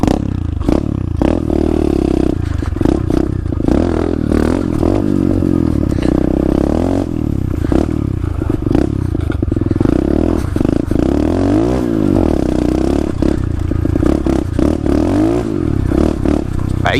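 A pit bike engine revs and drones continuously while being ridden on a cold, icy day, rising and falling in pitch with throttle, close and steady throughout, slightly muffled, with clattering and scraping mixed in and no talking.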